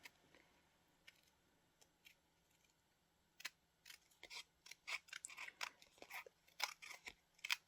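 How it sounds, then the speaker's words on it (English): Faint, sparse snips at first, then a quickening run of crisp cuts from big scissors through paper scraps, each a short crunchy slice. "I like to use my big scissors, because I don't like clipping along in little strokes"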